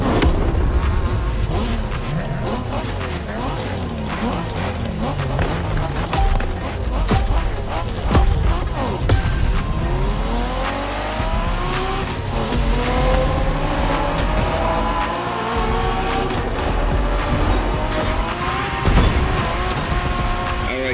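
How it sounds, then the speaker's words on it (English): Japanese-style street racing in The Crew 2: a loud engine revs and shifts with rising and falling pitch sweeps, joined by brief squealing tires, continuous and close throughout. "We're going for some proper Japanese street racing."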